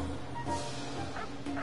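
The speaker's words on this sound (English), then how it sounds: "Stop! Freaking dog," Dog barking and whimpering in the video game What Remains of Edith Finch, a short, fairly close burst of yips and woofs with game sound underneath.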